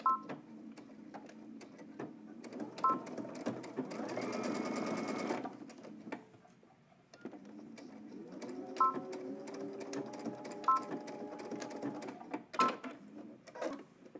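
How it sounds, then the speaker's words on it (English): Sewing machine back-stitching a seam on baggy jeans: short bursts of stitching with clicks and pauses, one longer steady run in the middle, close and moderately loud. "Now let's take all this to the machine so we can sew it up."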